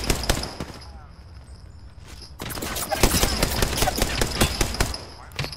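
Rapid video game gunfire crackles in loud automatic bursts, with a brief lull before heavier sustained shooting resumes, while a voice talks over it.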